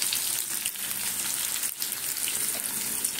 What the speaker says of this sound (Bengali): এটা এইভাবে কড়া করে ভেজে নিয়েছি আমি